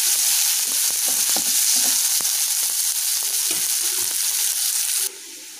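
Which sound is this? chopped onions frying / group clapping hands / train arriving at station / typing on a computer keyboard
chopped onions frying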